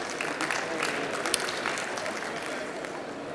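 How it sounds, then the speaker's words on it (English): Audience applause at a medical conference session, welcoming a speaker onto the stage; a steady, dense wash of clapping from a crowd that holds even for several seconds. "Please welcome him all on stage and give him a round of applause."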